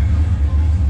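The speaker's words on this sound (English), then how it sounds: "the car sounds so much louder, so much more muscular" Deep, loud rumbling idle from a 5th Gen Camaro SS V8 with Badlanz exhaust cutouts open, a steady throbbing low drone heard up close.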